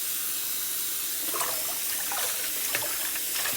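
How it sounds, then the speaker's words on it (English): Organic beet tops swished and rinsed in a bowl of water, a continuous splashing, sloshing wash close by with no talking. "we're going to give them a quick wash"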